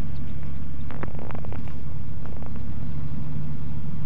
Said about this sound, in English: Now we're going to make a no-flap takeoff